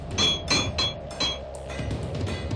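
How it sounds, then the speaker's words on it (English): A work crew hammers rivets by hand, with about four or five sharp, ringing metallic strikes in fairly quick succession, then a quieter, clinking tail. "In a 16-hour shift, this crew hammers home some 700 rivets."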